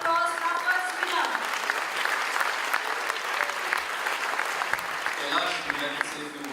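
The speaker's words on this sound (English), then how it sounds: "Big round of applause for our first winner." An awards ceremony audience breaks into sustained applause for a winner, dense continuous clapping filling the room for several seconds, steady in level with some brief tonal sounds and faint voices mixed in near the end.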